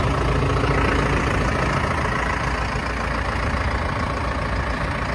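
A John Deere 6120M tractor engine runs at a steady idle, a dense, constant diesel drone heard close with no breaks.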